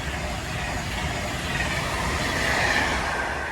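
A Class 390 train rolls past on the rail line, a loud steady rumble of wheels on track with faint clickety-clack and a thin squeal rising briefly near the middle, sustained throughout.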